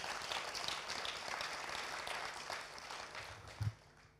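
A church congregation applauds the welcome team, a steady wash of clapping from a large indoor crowd that carries on throughout and thins out toward the end.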